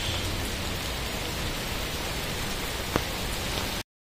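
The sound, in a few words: heavy rain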